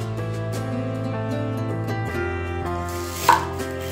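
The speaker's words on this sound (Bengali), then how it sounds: "দুটো পেঁয়াজ কেটে নিচ্ছি।" Onions are sliced with a knife on a board, a series of light, regularly spaced chopping taps set mostly beneath steady background music.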